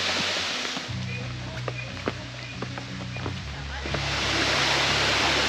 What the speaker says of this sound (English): these are the waterfalls